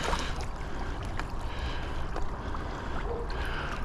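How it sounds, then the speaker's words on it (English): A Hayward 4-wheel drive robotic pool cleaner runs in a pool, giving a quiet, continuous watery churning hum with faint splashes throughout. "this is the 4-wheel drive Hayward pool cleaner"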